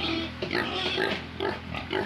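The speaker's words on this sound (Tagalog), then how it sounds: "Kaya atong baboy nagsige nagsinggita nagpangay." Pigs at a farm pen squealing loudly as they wait to be fed, repeated shrill squeals and grunts in quick succession over a noisy background, close to the microphone.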